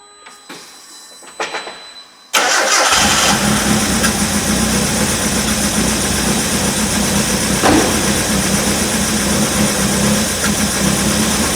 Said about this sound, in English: Considering the throttle bodies haven't been fitted to this car for nearly 6 months, and that has literally just fired on the first touch of the button.